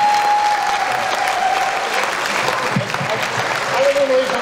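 Sustained clapping from the audience at the Portland Retro Gaming Expo auction, a dense, loud wash of applause filling the hall with a voice faintly heard under it.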